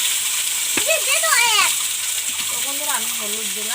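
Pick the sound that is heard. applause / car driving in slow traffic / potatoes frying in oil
potatoes frying in oil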